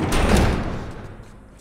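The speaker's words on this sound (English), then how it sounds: "Barricade the door." A door in The Last of Us video game is shut and barricaded, giving a single heavy thud and slam that quickly fades.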